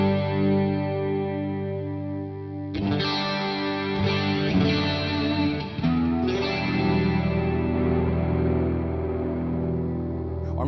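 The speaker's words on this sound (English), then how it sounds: "if I turn this up even more, it still tends to distort" A distorted electric guitar plays sustained, heavily driven chords through a Headrush amp modeler, loud and close with a chorus-like shimmer and no talking.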